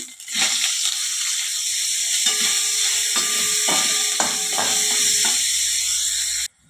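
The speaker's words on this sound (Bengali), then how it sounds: "এবার আমি টমেটোর কুচিটা দিয়ে দিচ্ছি।" Chopped tomato tipped into a hot pan of oil with cardamom, cumin and ginger paste, giving a bright continuous sizzle broken by several scraping stirs and knocks of a utensil, close and loud, then cut off abruptly.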